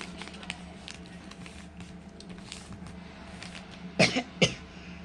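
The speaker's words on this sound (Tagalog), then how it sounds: "Sorry kasi may ubo." Two short, sharp coughs close by, following a stretch of faint shuffling and tapping noises.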